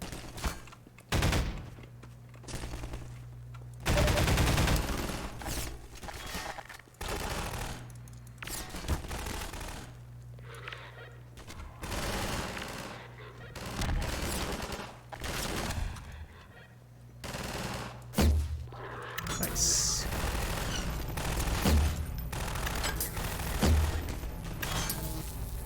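Rapid bursts of gunfire from the video game Half-Life 2, with repeated loud shots and volleys across the scene, some in quick automatic strings and others as sharper single blasts.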